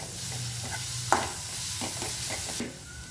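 Shredded cabbage for Kerala sadya-style thoran is stirred in a hot pan, a soft continuous sizzle with light spatula scrapes and one sharper clink, close and fairly quiet with no talking.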